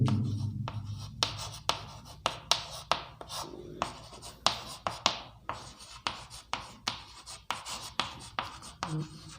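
Pen writing notes by hand on paper during a class 10 science lesson, with a steady series of scratchy strokes and short taps, close and clear, with no talk.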